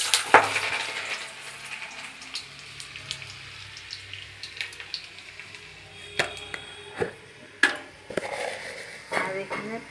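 Dried red chillies, a bay leaf and garlic cloves frying in oil in a pan give a steady low sizzle, broken by scattered clinks and scrapes of utensils, with a few sharper knocks in the later part.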